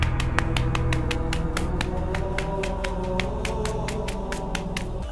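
Hands clap in a fast, even run of roughly thirty sharp, crisp claps. They sound close and carry on without a break over a low steady hum, with no talk.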